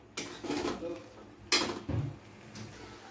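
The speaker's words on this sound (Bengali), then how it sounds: "টমেটোটা দেওয়ার পরে টমেটোটাকেও 3 থেকে 4 মিনিট একটু ভালো করে নেড়ে নিতে হবে" A utensil stirs chopped tomatoes in a metal cooking pan, giving a few sharp clanks and scrapes in separate bursts with quieter rustling between them.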